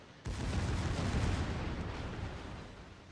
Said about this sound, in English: Then he activates his smoke. And then fires his guns.